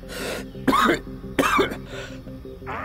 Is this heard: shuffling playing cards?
no